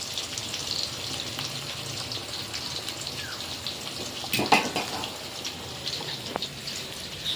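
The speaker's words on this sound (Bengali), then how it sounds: "এই যে ভাত ফুটছে," A pot of rice boiling on the stove, giving a faint, steady bubbling and watery patter with one brief louder splash partway through. No one talks.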